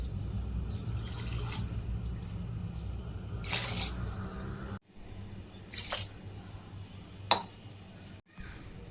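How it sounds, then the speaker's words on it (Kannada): Second-press coconut milk is poured into a pot of rice for paneer pulao, giving a quiet, steady liquid stream broken by a few brief splashes and a small clink. "2ನೇ ಹಾಲು ತೆಗೆದದ್ದನ್ನು ಹಾಕ್ತಾ ಇರುತ್ತೆ."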